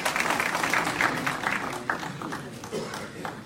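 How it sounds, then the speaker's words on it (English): Applause from an audience at a monthly meeting: dense clapping that gradually thins and fades out, with a few scattered claps near the end. "Give another round of applause."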